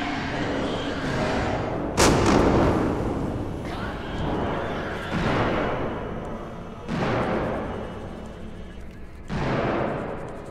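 Gunfire in Alien: Isolation rings out in several loud, sharp bursts spaced every couple of seconds, each with a booming echoing tail, over a steady rumbling game ambience with no voices.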